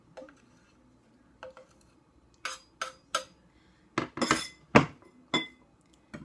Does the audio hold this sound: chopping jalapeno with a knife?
yes